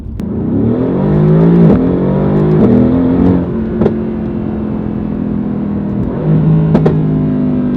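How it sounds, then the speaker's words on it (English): A loud Mercedes-AMG GT R sports car engine roars and revs with rising and falling pitch, heard close up from inside, with no talking. "It's so loud, guys. It's just marvelous,"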